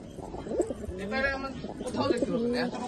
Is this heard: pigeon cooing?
yes